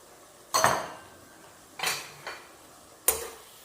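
A spicy pork skin salad tossed and stirred in a bowl: three separate bright clinks and scrapes of a utensil, close and clear, over a quiet background.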